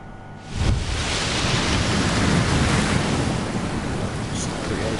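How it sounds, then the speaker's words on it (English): Tidal waves in the underwater survival game Subnautica, a sudden heavy roaring surge that settles into a loud, sustained rushing wash of water. "Just creates tidal waves."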